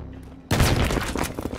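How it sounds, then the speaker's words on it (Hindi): A grenade blast in the video game Battlefield 3 bursts suddenly out of near silence, a loud booming explosion with rumbling crackle trailing off over about a second. "हमने अपने पास ही फेंक दिया पटाखा।"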